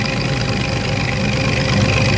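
A tractor drives a kolhu oil press crushing mustard seeds, a loud, steady, close engine drone that runs without a break and with no one speaking.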